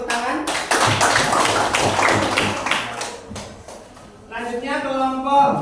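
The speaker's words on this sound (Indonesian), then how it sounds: "Tutup ya, beri tepuk tangan." A classroom audience claps hands for several seconds in a dense patter, which fades out as a speaking voice takes over.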